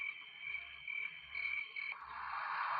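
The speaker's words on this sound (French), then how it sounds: "Cigales et grenouilles." Recorded nature sounds play from an eye massager: steady frog croaks pulse in a regular rhythm beneath a continuous high chirping drone, soft and close.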